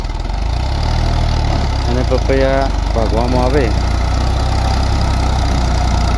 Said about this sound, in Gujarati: આ રીતે પપૈયામાં રોટોવેટર મારવું હોય તો ટ્રેક્ટરમાં ફર્સ્ટ લો ગિયર મારી